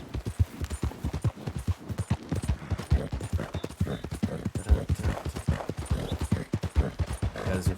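Horse hooves clip-clop steadily and close in the video game Red Dead Redemption 2, a dense rhythmic trot of hoofbeats carrying through the whole stretch with no talk over it.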